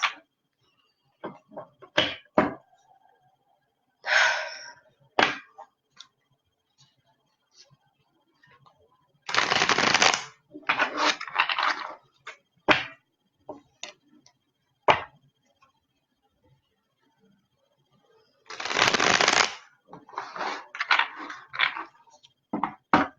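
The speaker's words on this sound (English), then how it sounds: "I think I'm going to do the shuffling like 3 more times, just because." A deck of tarot cards is shuffled in sharp, crisp riffling bursts, up close and separated by short quiet gaps, with a few longer, louder runs of shuffling.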